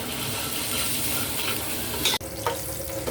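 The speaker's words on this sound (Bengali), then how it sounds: "এখন আমি এই মশলাটা ভালো করে কষিয়ে নিব।" Ground spices fry in oil in a pan for chicken kabsa, a close, steady sizzle with stirring and a sharp scrape near the end.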